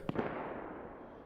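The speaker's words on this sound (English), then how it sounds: "these guys have been tossing nades for 20 minutes" Grenade blasts in the survival game DayZ: one muffled, distant boom with a short double pop at the start, then a long low rumbling tail fading out alone.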